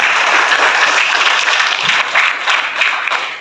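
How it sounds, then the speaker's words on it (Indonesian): An audience at a teachers' and students' workshop at a vocational high school in Tambolaka breaks into loud, dense applause that holds steady as a continuous roar of many hands, close and full. "Kita tepuk tangan dulu."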